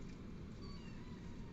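A cat meows in a short continuous call over a steady low rumble of background noise, with no voices present.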